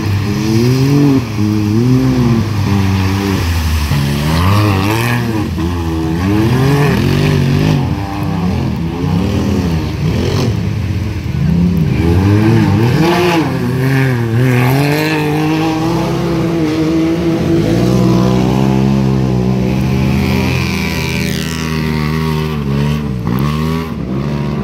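Off-road buggies race on a short course of a little over a mile, engines loud and close, revving and shifting as they turn quick laps.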